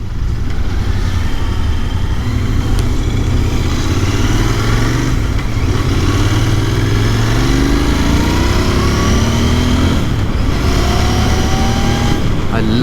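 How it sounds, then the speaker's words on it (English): Royal Enfield Interceptor 650 motorcycle engine pulling hard under acceleration, a steady loud rumble with rising pitch sweeps as it revs through the gears, with rushing wind noise throughout. "I love how the bike pulls."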